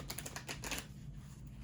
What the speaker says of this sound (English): I will go ahead and do a quick shuffle like this so that everyone can see that the decks are shuffled